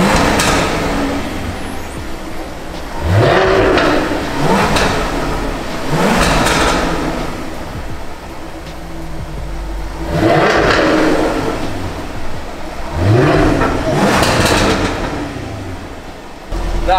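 A Jaguar F-Type's engine revs hard several times, each loud roaring surge rising in pitch and then dropping back to a rumbling idle, close by and dominating, with no voices over it.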